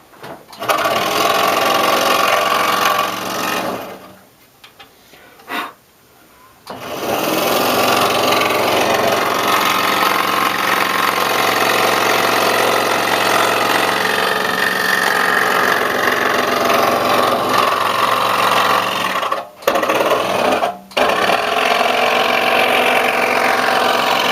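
Scroll-style power saw fitted with a number 3 blade cutting 1/8 inch wood, a steady close motorized buzz running for long stretches with a few brief stops and restarts.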